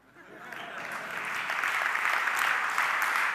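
Clapping from an audience at a software conference builds up quickly and continues steadily, a dense patter of many hands at moderate volume.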